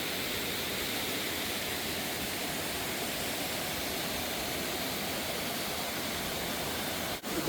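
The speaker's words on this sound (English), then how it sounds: "We got our own waterfall." A small waterfall pouring into a swimming hole in the Great Smoky Mountains gives a constant, dense hiss and rumble of falling water, close and unbroken, with only a brief dip near the end.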